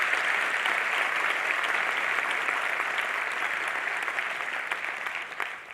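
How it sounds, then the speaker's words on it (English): Sustained applause from an auditorium audience at an astronomy general assembly honors the speakers, a dense steady wash of clapping that fades slightly toward the end. "Can I have a round of applause for our speakers,"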